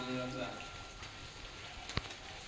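Steady rain falling outdoors at a village Shiva temple in Odisha, a continuous close hiss with a sharp drop-like tap near the end. A faint voice is audible briefly at the start.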